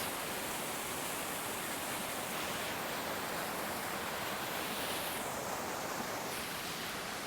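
A waterfall in Wales gives a steady, unbroken rushing roar of falling water, even and continuous throughout with no voices.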